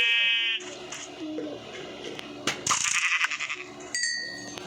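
Sheep bleat in the Minecraft video game, several wavering cries near and loud among clinks and game noises, with quieter bleats returning toward the end.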